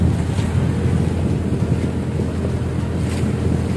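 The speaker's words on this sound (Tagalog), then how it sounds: "Ayan, bilis ng bangka." Fishing boat running fast on open sea near a pier, a steady loud roar of engine, hull and water rushing by with heavy wind buffeting the microphone, no voices.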